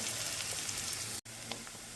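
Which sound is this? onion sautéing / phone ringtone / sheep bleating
onion sautéing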